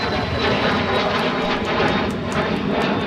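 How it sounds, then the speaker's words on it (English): A business jet passes overhead near a busy airport, its engine roar a steady, broadband rush that holds level and unbroken throughout, loud and continuous with no voices. "that business jet is just too high"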